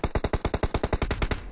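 Rapid automatic gunfire in the PUBG video game: about fourteen sharp, evenly spaced shots in a steady, loud burst with no voices over it.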